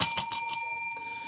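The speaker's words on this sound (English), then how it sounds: "I ring the bell." A hand bell is rung nearby, giving a few quick bright strikes followed by a clear ringing tone that slowly fades.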